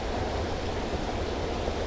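Steady, even roar of a waterfall, broadband and constant like rushing white noise with a heavy low end, continuous throughout with no talk.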